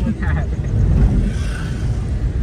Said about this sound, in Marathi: बघा कसा गाडी चालवतो, एकदम शांत.